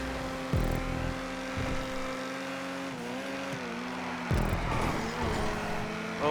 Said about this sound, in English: Oh, the sound of that car is amazing, Storm.